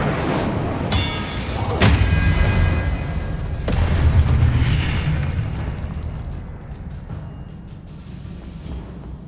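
An Incendio fire spell cast in Hogwarts Legacy bursts with a sharp booming whoosh, followed a couple of seconds later by a second heavy blast, then a fiery rumble that fades slowly.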